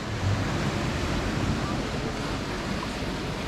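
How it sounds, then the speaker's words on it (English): Noisy ocean waves and surf by the shore at Torba in Bodrum, Turkey, a steady broadband wash with some wind rumble throughout, no talk. "With the noisy waves as well"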